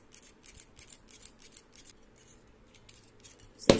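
Scissors snip sewing thread on a mini sewing machine in a run of quick, close, crisp cuts, six or seven evenly paced, then a few softer snips and a brief louder clack at the end.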